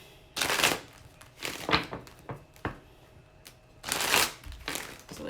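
Tarot cards shuffled by hand in several quick riffling bursts, each a crisp flutter of card edges separated by brief soft pauses, close and clear without talk.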